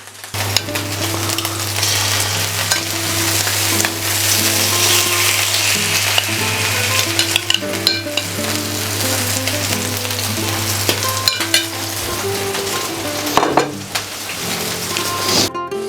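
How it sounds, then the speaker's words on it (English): Chopped tomatoes sizzle in a pan with garlic and onion for a cod and cauliflower paella, a loud steady frying crackle broken by stirring clinks and scrapes, close up with no talking. "Let's add our chopped tomatoes."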